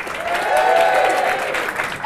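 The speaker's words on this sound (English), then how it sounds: "if you can applaud them along the table" Live studio audience in Manchester applauding guests at a table, a steady burst of clapping that swells and holds close and loud for about two seconds.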